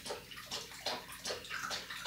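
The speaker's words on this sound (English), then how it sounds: "my dog like drinking water really loudly" A dog lapping water loudly from a bowl indoors, a quick run of wet slurping splashes repeating in a steady rhythm, close and clear with no talking.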